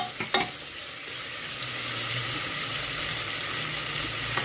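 Tomatoes sizzle and fry in a pan while being stirred, a steady close crackling hiss with a light scrape of the spoon near the start.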